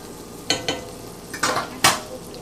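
Onions and yellow summer squash getting a quick sauté in a pan, with a few scattered stirring scrapes and soft sizzle bursts over a quiet kitchen background.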